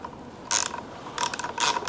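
A ratcheting box wrench works on a motorcycle brake or clutch lever during a Womet-Tech shorty lever install on a 2023 Grom, giving two quick bursts of close, crisp metallic clicks over quiet background.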